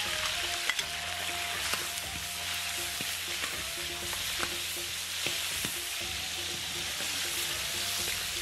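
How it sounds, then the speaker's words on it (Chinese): Chopped pickled ginger stir-fries in hot oil in a wok, with a loud, steady sizzle and crackle throughout and occasional scrapes and clicks of the stirring utensil. "油热放入泡姜泡姜末"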